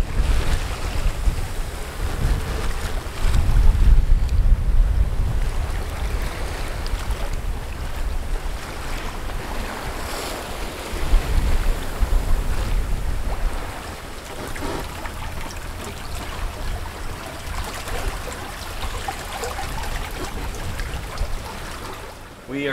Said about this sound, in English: We are sailing around the backside of St. Martin today for a couple reasons.